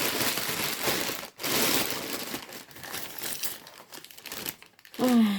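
Close crinkling of a small plastic bag of vintage costume jewelry being handled and opened, rustling in uneven bursts with brief pauses.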